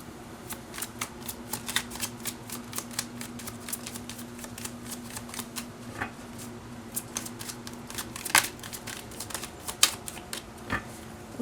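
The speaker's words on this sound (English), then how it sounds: "I'll shuffle one more." A tarot card deck is shuffled by hand in repeated bursts of crisp, rapid card flicks and slaps, close and clear, with irregular gaps between the bursts.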